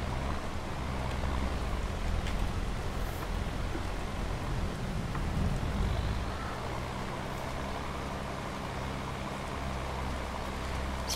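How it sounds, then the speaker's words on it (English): Steady rain falls over an open farm field, a dense, even hiss with low rumble underneath, continuous and moderately loud with no voices. "Some good rain to water in the seeds to start the germination"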